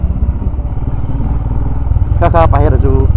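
A scooter being ridden, its engine giving a steady close-up throbbing drone throughout, with a person talking over it near the end.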